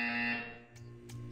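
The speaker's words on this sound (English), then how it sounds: "When you hear the buzzer, stare at the art." A buzzer in Portal 2 sounds as one sustained electronic tone that fades after under half a second, followed by a few faint short clicks in a quiet test room.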